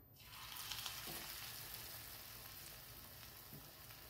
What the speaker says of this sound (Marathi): आता मी हा तळून घेते